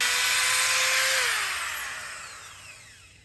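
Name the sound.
power drill drilling holes into brick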